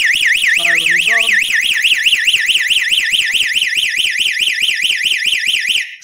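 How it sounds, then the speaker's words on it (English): A loud electronic siren from an eWelink/Sonoff alarm with a delay module wails in a rapid, continuous up-and-down warble, with a short bit of speech underneath early on, cutting off at the end. "Siren is on."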